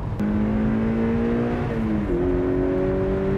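A Mazda MX-5 roadster engine drones steadily at legal speed, loud and close, its pitch climbing smoothly with a brief dip at a gear change and no talk over it.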